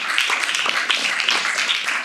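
A youth group audience claps together at a church youth service, dense continuous clapping at close range with no talking over it.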